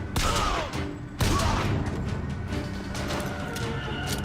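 Gunfire in the video game Bioshock Infinite rings out in a quick burst of sharp shots, with scattered further bangs and clatter following in a busy combat scene.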